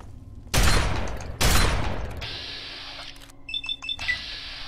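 Gunfire in the video game Fallout 3: two loud, close shots with rumbling tails, followed by a sustained electronic hum and a few short beeping tones.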